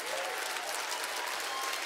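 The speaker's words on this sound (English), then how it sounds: "Hopefully the church is clapping right now." A church congregation clapping during a Sunday morning service, dense sustained applause filling the room without letup.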